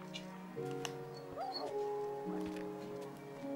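A dog whimpering in the video game Minecraft gives a few short whining yips and whines, close and fairly clear amid faint game sounds.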